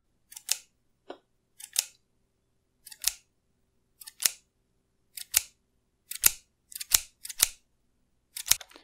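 Metal scissors open and close in quick snips, recorded up close as material for a Minecraft shears sound effect; about a dozen sharp, isolated clicks over near silence, coming faster toward the end.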